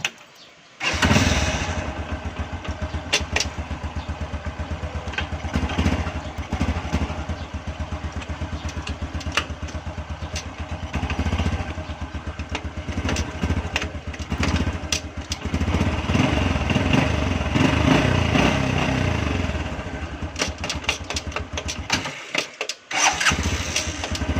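A Honda Wave 125 motorcycle engine cranks and catches, then idles steadily and loudly close by, revving up slightly before cutting out near the end.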